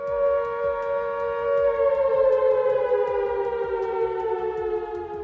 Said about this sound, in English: The sound of the curfew alarm in a gulag was typically a mechanical bell or a loud horn